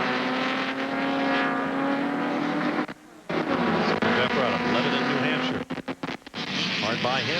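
Race cars from the 1997 Speedvision Cup sports car race at Daytona roar past with loud, sustained engine tones and shifting pitch, cutting out briefly a few times, while a commentator talks over them.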